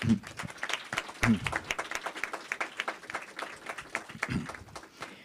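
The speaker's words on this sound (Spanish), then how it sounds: "les pido un aplauso, un fuerte aplauso" Audience applause closing an interdisciplinary art seminar, moderately loud clapping from a seated crowd with a few louder nearby claps standing out through the stretch.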